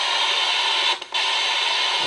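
Ghost box radio scanning static during a paranormal session at Sanford School in Moundsville, West Virginia: a steady, loud hiss of white noise that briefly drops out around the one-second mark before surging back.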